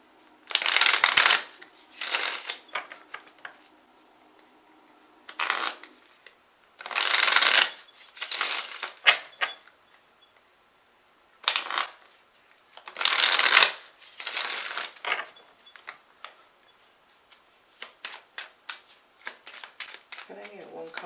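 Repeated riffling bursts of an oracle card deck being shuffled, each lasting about a second, with short pauses between them; close and crisp, with occasional soft handling noises.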